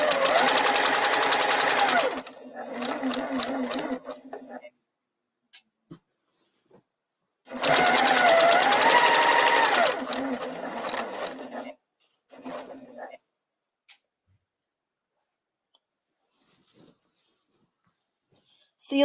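A sewing machine stitches a quilt in two long runs of rapid mechanical whirring, separated by quiet gaps with short bursts and small clicks.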